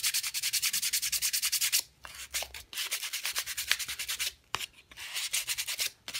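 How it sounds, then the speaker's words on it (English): Hand sanding a purpleheart wood fidget spinner: rapid, even back-and-forth rasping strokes, close and steady, broken by a few short pauses. "Can I get this thing sanded?"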